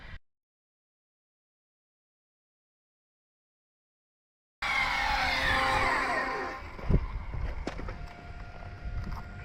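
An Arrma Mojave EXB RC car drives at high speed, its electric motor whining loudly after several seconds of silence and holding a steady roar with some bumps and clatter, close to the listener.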